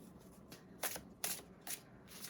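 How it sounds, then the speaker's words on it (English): Homemade cards being shuffled close by: a few quick, soft riffles in a quiet room, with no talking. "Let's grab some homemade cards."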